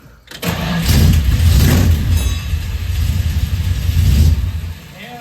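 A Dodge Challenger V8 cranks and fires, then roars into loud revving that surges, dips and swells again before dropping back toward idle, close and dominant.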